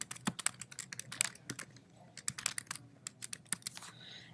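A title is typed on a computer keyboard in quick, uneven bursts of crisp key clicks, close and fairly quiet, with short pauses between clusters.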